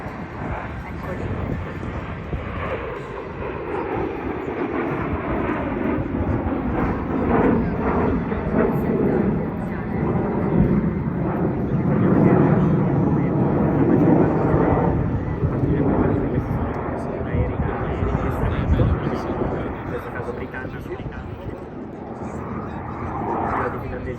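Finnish Air Force Midnight Hawks display team jets flying at the Rivolto airshow, a steady broad jet roar swelling and fading in the distance under continuous commentary.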